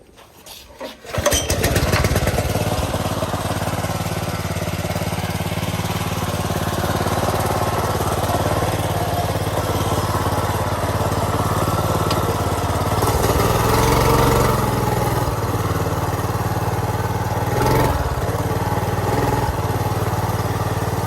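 Small minibike engine on a stretched Doodle Bug frame starts after a brief quiet moment, then runs steadily and loudly, close by, with slight shifts in revving during a short test ride; no talking.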